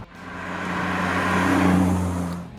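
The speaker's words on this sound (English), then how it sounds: "The joys of double declutching and going to a lower gear" A 1968 Ford Mustang with a 3-speed gearbox swells in a single rev blip while downshifting with double declutching on an open road, the engine rising and then easing back.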